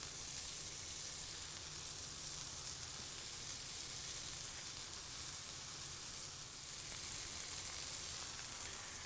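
Onion strings and breaded pickles fry in hot oil with a steady, dense sizzle that runs unbroken and fairly loud throughout, a continuous bright crackle with no voices over it.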